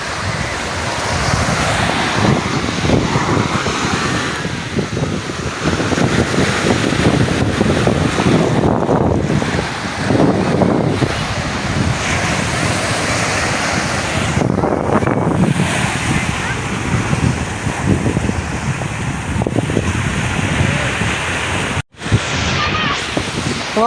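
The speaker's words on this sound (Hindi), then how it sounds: "समंदर की लहरों की।" Sea waves rolling onto the shore at Manora island near Karachi, a continuous loud surf wash with heavy wind buffeting the microphone, swelling and receding in broad surges over the full span.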